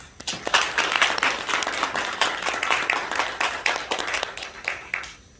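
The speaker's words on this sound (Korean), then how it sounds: "박수 한번 드리겠습니다." An audience at a Korean church ceremony applauds steadily, a dense, sustained burst of many hands clapping that fills the room for several seconds, then drops away abruptly at the end.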